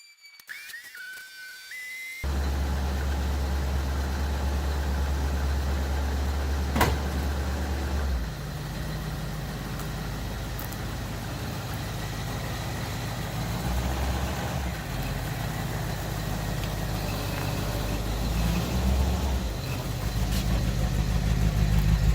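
A 1941 car's engine idles and rumbles steadily while the car is driven slowly under a garage lift, with a brief sharp squeal early on and no talking.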